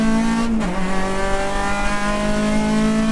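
A race car at a USTCC race in Las Vegas drones loudly and steadily from close by, with a brief dip and wobble in pitch as a gear change is missed before the engine tone settles again.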